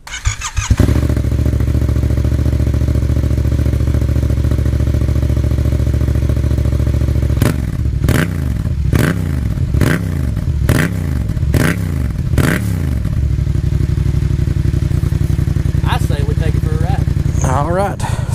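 Yamaha FZ-07 motorcycle engine fitted with a new air filter and freshly flashed ECU, idling loud and steady close by, then blipped through a series of sharp rhythmic revs before settling back to a low idle, with faint speech near the end.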